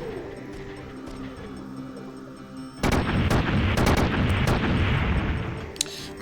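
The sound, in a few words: explosions from an artillery strike in the video game Front Mission 3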